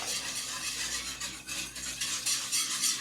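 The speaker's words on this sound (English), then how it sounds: "we're gonna keep just whisking that in there" A whisk stirs water and chicken bouillon in a pot, a steady close-up swishing and scraping against the metal that continues without a pause.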